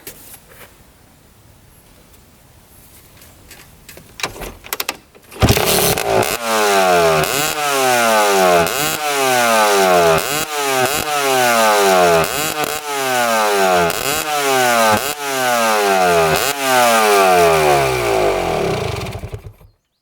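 A rare quad ATV engine with a modified exhaust pipe starts after quiet handling, then idles loudly and is revved in repeated rising-and-falling bursts, a harsh, raspy two-stroke-like snarl up close.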